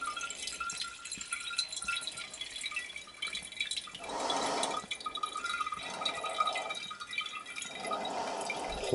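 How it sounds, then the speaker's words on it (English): Liquid from an HCl and bleach gold recovery solution, used on computer RAM parts, filtering and dripping, with faint irregular trickles and drips and a few louder pouring bursts, close and alone. "all I'm going to do is pour some in here and let it filter away"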